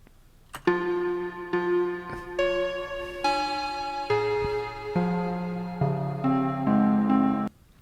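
Choppy glitch-music loop of reversed comped takes in Bitwig, a two-bar phrase of stacked harmonic tones in stepping blocks that swell and cut abruptly, with no talk.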